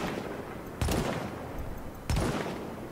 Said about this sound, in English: let's get out my sniper and snipe this guy